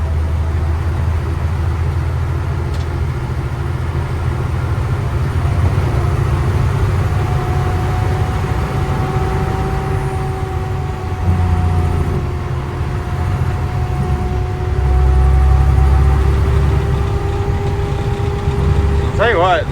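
A Freightliner dump truck with a Cat engine and air ride drives along, its steady loud engine drone and rising gear whine filling the cab while someone talks over it.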